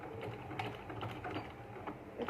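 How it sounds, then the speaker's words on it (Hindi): A sewing machine stitches lace onto the hem of a baby yoke frock, a soft rapid mechanical whirring with light ticking, steady and close at low volume. "फिर आपने सिलाई लगानी है"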